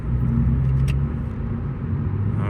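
A 10th gen Honda Civic hatchback with a catless downpipe and muffler delete, driven at night in sport mode, puts out a steady low exhaust drone and road rumble from inside the cabin, with a faint brief click partway through.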